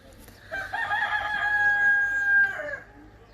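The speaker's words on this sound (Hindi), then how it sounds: "मुर्गा अलग बांग दिए जा रहे हैं।" A rooster crows by Dal Lake in Kashmir, one long drawn-out cock-a-doodle-doo rising then holding a sustained note, fairly close over quiet outdoor background.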